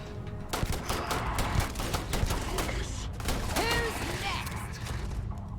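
A modified Maelstrom gun in Starfield fires rapid shots in a dense, crackling volley, with mechanical clicks and gunfire continuing amid a busy firefight.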